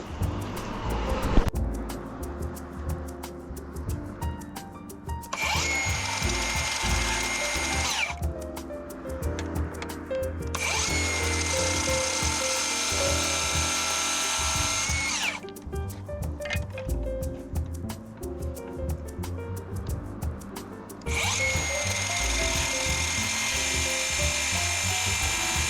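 Wooden chair legs are cut down by five centimetres, with three long bursts of loud, harsh cutting noise separated by quieter stretches of handling and mechanical clatter.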